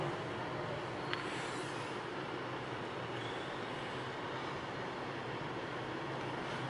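Metro train at a metro station in Bahria Town, Islamabad, a steady rumbling rolling drone of railcars with a faint brief squeal, continuous and fairly close, with no talk.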